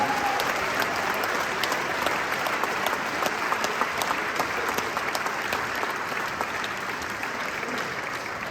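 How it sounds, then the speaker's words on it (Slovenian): A large crowd applauding at a public prize draw for a Renault 4 car in Slovenia, a dense, even wash of clapping that continues steadily throughout. "En aplavz za Gorenjce."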